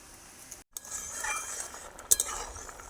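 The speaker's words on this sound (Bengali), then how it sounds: "ঢাকনাটা তুলে একটু নেড়ে দিই" A pot lid comes off and a spoon stirs simmering mung dal with Malabar spinach: a faint scraping stir punctuated by a couple of quick metallic clinks close by, with no voices.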